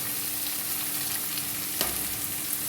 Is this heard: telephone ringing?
no